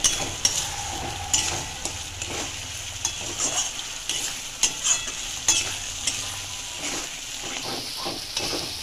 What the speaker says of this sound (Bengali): দেখুন এখানে আমি ফ্রাই করছি আরও ভালো করে প্যানের ওপর।